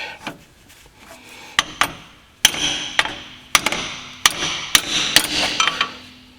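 A hammer taps on a Subaru center differential, about a dozen sharp metallic strikes in uneven bursts at close range, with soft rubbing between blows.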